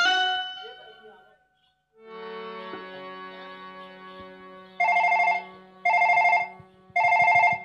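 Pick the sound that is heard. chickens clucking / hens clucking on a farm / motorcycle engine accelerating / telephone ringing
telephone ringing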